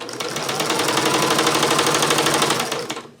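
A sewing machine stitches jellyroll quilt strips with a quarter-inch seam, its needle running at a fast, steady mechanical chatter from start to finish, close and loud, then slowing as it stops.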